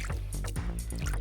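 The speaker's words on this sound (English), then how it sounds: "So I'm going to water this one now." Water pours onto freshly planted pepper seedlings in a backyard garden, a close, steady trickling and splashing that runs unbroken for a moment.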